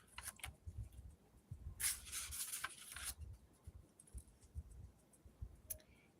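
Someone writing something down by hand: faint, close scratching and rubbing strokes, with a denser burst of scraping in the middle and sparse ticks around it.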